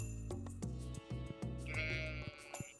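Sheep bleating in the Stardew Valley farming video game, several short, clear bleats in a row over quiet game background, close and moderately loud.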